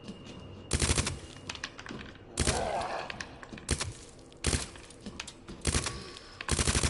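An SMG in Resident Evil 2 Remake fires in repeated short full-auto bursts, about six loud rattling volleys spaced a second or so apart, with quieter clicks and game sounds between them and no speech.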